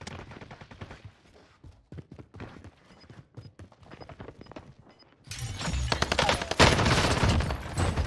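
Gunfire in Call of Duty on Rebirth Island: a few scattered sharp shots at first, then a loud, dense burst of rapid shots that fills the last few seconds.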